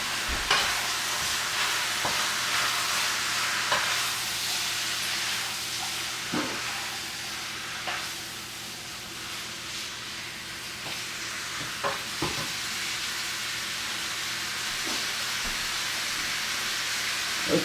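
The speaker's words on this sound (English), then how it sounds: "Better give my meat a stir." Meat for chili is stirred in a hot pan under a steady loud sizzle and hiss of frying. Scraping clicks and taps of the spoon against the pan come every second or two.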